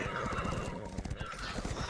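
A horse whinnies over a busy backdrop of rapid hoof clatter and game-like background noise, steady and fairly loud throughout.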